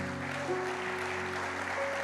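A church congregation claps faintly in the background. Soft, steady applause runs under sustained keyboard tones for a couple of seconds, with no voices.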